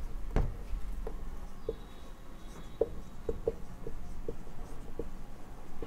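Handwriting during a physics lesson on electricity and resistance, a series of small regular taps and scratches, probably chalk or marker on a board, spaced about half a second apart over a steady background hum, with no speech.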